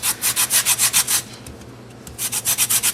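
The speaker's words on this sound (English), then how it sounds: "you want to take a lime and zest it" A lime is zested against a grater in a kitchen, a quick series of rhythmic rasping strokes, a short pause, then another fast burst of scraping, close and fairly loud.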